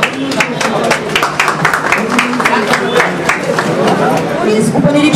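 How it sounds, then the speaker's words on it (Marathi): Crowd applause at a Republic Day police station event, steady and dense clapping mixed with chatter and crowd murmur throughout, fairly loud and continuous. "जोरदार टाळ्यांच्या गजरात एकदा माझ्या खाकीसाठी जोरदार टाळ्या होऊन जाऊ."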